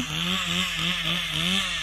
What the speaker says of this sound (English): And the precious noise of the chainsaw.